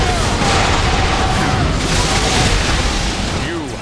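Armaments firing and explosions in the battle game Dynasty Warriors 8: a dense, loud, continuous rumble of booms and blasts that fades slightly near the end, with voices mixed in underneath.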